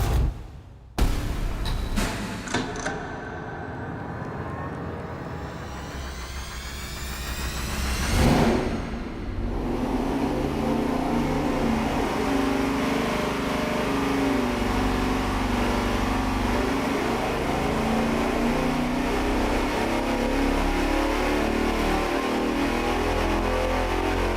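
A naturally aspirated 440 V8 with TFS aluminum cylinder heads on an engine dyno, cranking with a few sharp bangs, then climbing in a loud wide-open rev that holds as a steady roar for about fifteen seconds.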